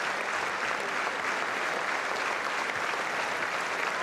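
French spectators at a women's Six Nations rugby match between France and Scotland applaud steadily, a dense, even wash of clapping from a large stadium crowd lasting throughout without pause.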